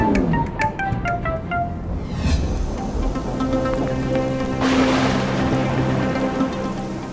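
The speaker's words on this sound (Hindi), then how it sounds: "अरे कितनी तेज बारिश हो रही है" Heavy rain pours steadily as a continuous broadband wash, with tonal music-like notes and a brief swell layered over it, and no speech.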